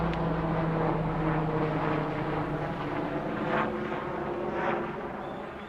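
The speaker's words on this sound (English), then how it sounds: "So helicopters go over all day long." Helicopter flying over a garden near a flight path, a steady low rotor and engine drone held at a constant level for the whole stretch, with no talk.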